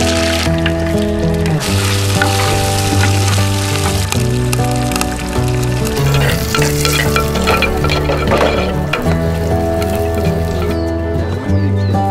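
Onion, chili and garlic fry for a curry in Sri Lanka, making a continuous, busy sizzle and crackle beneath prominent background music.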